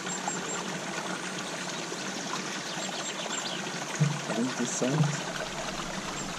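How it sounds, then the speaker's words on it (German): Spring water flowing straight out of a mountainside in the upper Danube valley makes a steady, soft trickling wash, with a voice speaking briefly near the end. "Da kommt einfach das Wasser"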